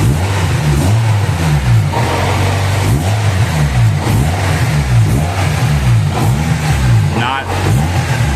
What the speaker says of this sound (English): Give it a little wick of the throttle.